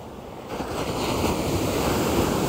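Small ocean waves wash onto a surf beach at Kashimanada, a steady continuous roar of surf that swells slightly after the first half second, with wind noise buffeting the microphone throughout and no voices.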